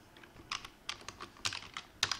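Keys clack on a computer keyboard as words are entered into an online translator, in short uneven bursts of typing at close range with small pauses between groups, and no one speaking.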